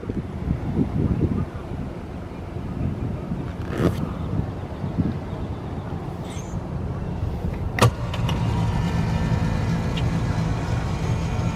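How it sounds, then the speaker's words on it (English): A 2010 Chevy Express wheelchair conversion van idles steadily nearby, a low continuous engine rumble with some wind noise and a couple of brief clicks or thumps. "The van runs, it drives perfectly. It's running right now."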